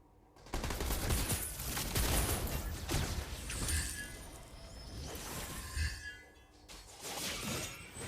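Rapid bursts of automatic gunfire in the shooter game PUBG Mobile, loud dense volleys with brief pauses and a glassy crash mixed in, heard without talk.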